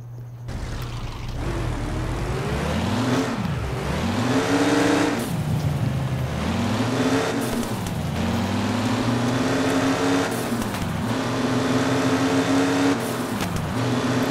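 A video game car fitted with three turbos starts up and revs, its engine climbing and falling in several loud, sustained sweeps with a steady roar underneath.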